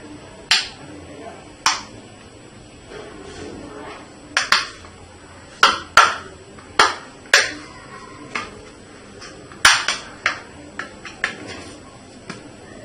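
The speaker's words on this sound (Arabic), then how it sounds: "نيجي نفتح الموبايل." Sharp plastic clicks and snaps ring out as the back cover of a Tide S5 5G smartphone is pried open, about a dozen separate crisp cracks at irregular intervals, close and fairly loud with no talking.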